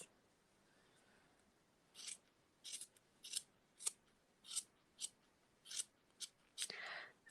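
Scissors snip about ten times in an uneven rhythm, trimming a yarn pom pom, close and crisp, after a brief quiet start.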